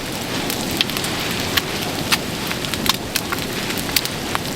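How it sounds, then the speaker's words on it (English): Hail falls outdoors at a carp fishing lake, a steady dense hiss with scattered sharp ticks and pops of stones striking surfaces, close and even throughout, with no voices. "Hail."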